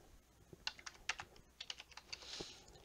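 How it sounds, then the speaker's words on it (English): Quick, light keystrokes patter on a computer keyboard in a short, irregular burst, close and fairly quiet, with no voice over them. "I'm just going to type that down."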